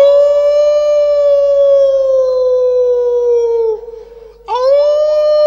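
A human voice imitates a wolf howl in one long, loud, sustained tone that slowly falls in pitch, dips and fades briefly, then jumps back up into a second howl.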